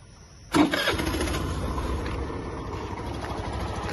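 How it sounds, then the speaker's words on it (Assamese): A red Assam government scooter engine catches with a sharp start at about half a second, then settles into a steady, close mid-pitched idle with no talking. "গাড়ীখন ষ্টাৰ্ট কৰি দেখাইছোঁ।"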